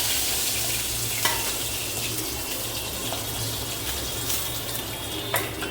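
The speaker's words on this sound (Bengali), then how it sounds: "তো দেখো মাছগুলোকে আমি সুন্দর করে ভেজে নিয়েছি।" Fish frying in hot oil in a pan makes a continuous, even sizzle with occasional sharp pops and clicks, close and unbroken.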